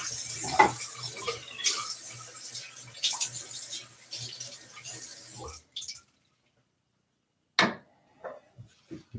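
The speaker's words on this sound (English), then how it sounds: "make sure you rinse it to where even the little white spot in the middle is gone" A dense shaving brush being rinsed of soap under running water, heard as a faucet stream with splashing and dripping that stops abruptly, followed by a brief gush and small trickles.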